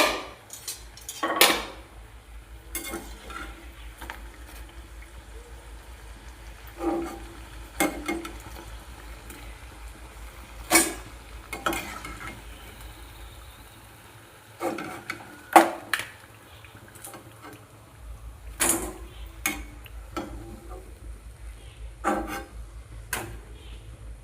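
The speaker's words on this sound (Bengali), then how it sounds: "দেখুন এরকম করে সবগুলো ভেজে আনবো। দেখুন আওয়াজটা দেখুন।" Papri frying in hot oil hisses faintly and steadily, broken by frequent sharp metallic clinks and knocks of a utensil against the pan at irregular intervals.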